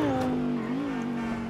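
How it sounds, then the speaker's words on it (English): A BMW Liberty Walk car in the video game GTA 5 gives a steady, droning exhaust note with a gently wavering pitch. It is close and continuous, with no talk. "Especially the sound from the exhaust is so freaking insane."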